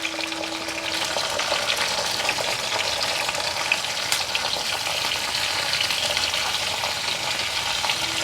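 Boiled raw banana pieces with curry leaves frying in oil, a dense, even hiss and crackle holding steady throughout at close range, no speech.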